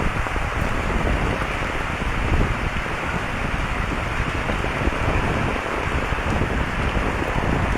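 Steady, dense rain pours down across a village, a continuous loud hiss and patter of drops on surfaces with no break and no voices.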